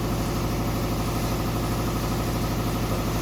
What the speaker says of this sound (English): Air compressor in the shop starting up.